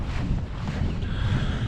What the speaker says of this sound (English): every time I come here, it's always windy